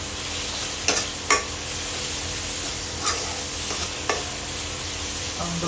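Vegetables with turmeric and salt are stirred in a pan: a soft constant sizzle is broken by a few sharp clicks of the spoon against the metal, spaced irregularly and close by.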